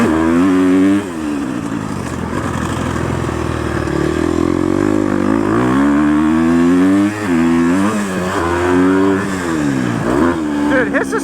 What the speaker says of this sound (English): Third gear on these KTM motors just revs out so far.